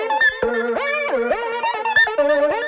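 Dry synth lead for a modern breakbeat track plays a quick, choppy phrase of gliding pitched notes with sharp attacks and no vibrato or texture layers. It sounds bright, close and upfront, with no other sounds.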